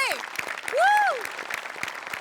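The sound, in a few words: audience applause for the set department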